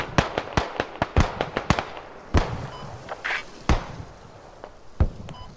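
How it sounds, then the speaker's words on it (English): Enemy gunfire in the video game Squad: a rapid scatter of sharp cracks, several in quick bursts, then spaced single shots, fairly close and loud with no talk over them. "There's enemy gunfire off to the west."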